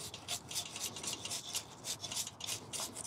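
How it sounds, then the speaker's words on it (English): A brush scrubs the back of an 11-speed bicycle chain with cleaner in quick, rhythmic strokes, a soft, close, bristly rasp that repeats steadily with no talking. "Let's give the chain a bit of a scrub on the backside."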